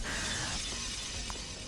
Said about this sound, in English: The barrier is completely shattered.